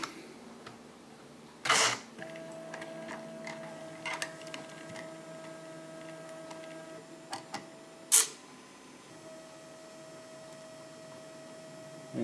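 Stepper motors slowly drive the eject mechanism of a homemade smart card programmer, giving quiet sustained tonal whines with soft ticks and two sharp clicks, close and without speech.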